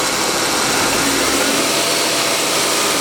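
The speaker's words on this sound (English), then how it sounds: "when we rev the engine up" Car engine running at raised revs with the air-conditioning compressor engaged, a loud, steady, close-up mechanical roar throughout without speech.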